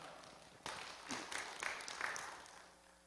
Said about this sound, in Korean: 우리 목사님 환영하며 박수로 맞이하겠습니다